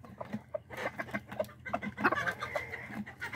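A flock of hens and a large rooster, harried by guinea fowl, clucks repeatedly in uneven clusters, near and moderately loud, with overlapping calls building toward the middle and no voices.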